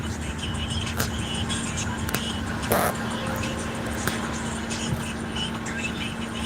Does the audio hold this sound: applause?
no